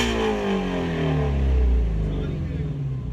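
A Ford Mustang GT350R off-road has its engine revved hard, loud and close, with the deep roar swelling and falling back while people talk over it.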